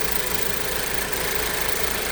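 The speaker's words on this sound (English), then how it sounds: "with the engine idling" A 2014 Ford Focus engine idles steadily with its purge solenoid unplugged, giving a continuous, even mid-pitched hum that stays close and constant throughout with no voices.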